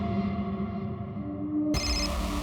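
A telephone ringing with a steady electronic tone that shifts to a brighter ringtone partway through, close and clear with no talk.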